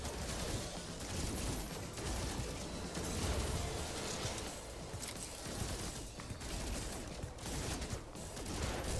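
Gunfire in the video game No Man's Sky: a continuous barrage of rapid shots and mechanical weapon noise, dense and steady throughout with no clear pauses and no talk.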